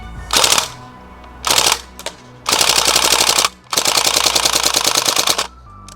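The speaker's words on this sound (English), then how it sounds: "it consistently blasts out streams of automatic fire into the horizon" Rapid automatic bursts from a gas blowback airsoft UZI SMG: two short bursts, then two long rattling streams of fire, loud and close, with brief pauses between.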